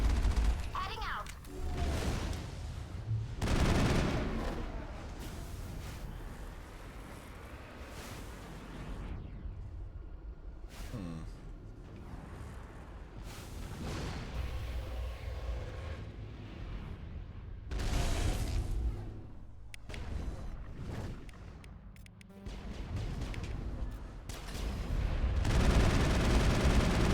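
Geth turrets in the Mass Effect video game fire repeated gunshots and explosive blasts in scattered bursts over nearly half a minute, set against a loud, shifting game soundscape.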